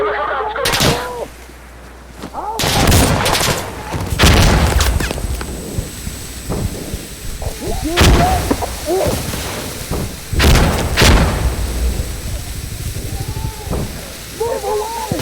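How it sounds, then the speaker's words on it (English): Chemical mortar rounds fire in the Insurgency Sandstorm game, a series of heavy booming blasts and thuds spaced a few seconds apart, loud and close, with battlefield noise and brief shouted voices between impacts. "Chemical rounds going."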